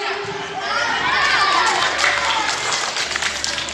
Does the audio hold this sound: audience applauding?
yes